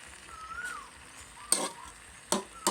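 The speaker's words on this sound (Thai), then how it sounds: "คั่วกับน้ำมันนิดๆให้หอมก่อน" Garlic and seasonings stir-fried in a little oil over a charcoal stove, with soft sizzling and three sharp scrapes of a utensil against the pan, close by.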